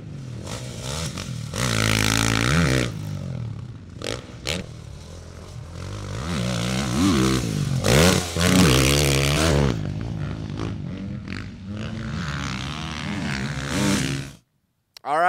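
A 2023 KTM 450 SX-F four-stroke dirt bike ridden on a motocross track, its engine revving up and down in repeated loud bursts with shifting pitch, fading near the end.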